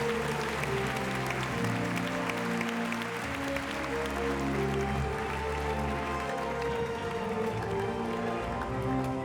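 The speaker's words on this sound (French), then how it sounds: "Allez, on l'applaudit bien fort." Audience applause at a French comedy stage show, a steady broad wash of clapping filling the room at moderate level for the whole stretch, with no voices on top.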